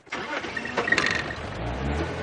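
A safari game-drive vehicle's engine cranks and catches, then settles into a low rumbling idle with a slight rev, fairly close and without talk over it.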